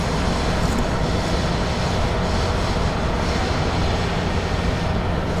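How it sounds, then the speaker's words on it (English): Metro train rolling past behind an airport viewing spot at Washington Dulles, a steady broad rumble and rail roar holding at a constant level throughout with no voices. "Got the metro passing behind us here."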